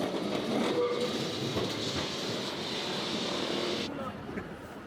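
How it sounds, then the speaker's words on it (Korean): A yellow tram runs through the streets of Lisbon with a steady rumble and faint rail clatter close by, easing off toward the end. "리스본 하면 노란 트램이 빠질 수 없다."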